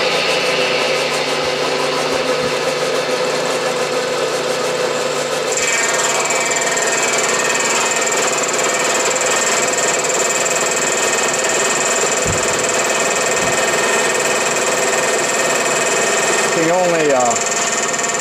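A 6-inch Atlas lathe runs a cut under power feed, giving a steady mechanical whir with a faint whine and a few low knocks, while someone talks over it.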